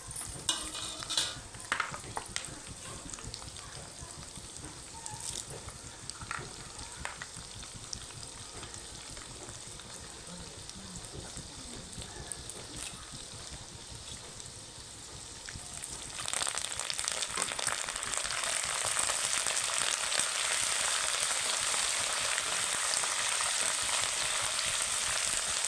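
Dried red chillies frying in a pan with garlic for a curry, a soft steady sizzle with faint stirring clinks that swells into a louder, brighter hiss partway through, close, no talk.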